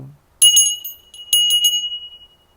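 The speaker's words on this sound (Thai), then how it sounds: "กดกระดิ่ง" A notification bell sound effect rings twice: two bright, clear metallic dings, each with a short rattle, that fade and ring out in otherwise near silence.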